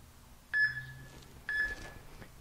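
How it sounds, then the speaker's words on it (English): A workout interval timer gives two short, clear electronic beeps about a second apart, each one a brief bright tone over a quiet room. "I'll set the timer for 2 minutes, and we'll go ahead and score this one"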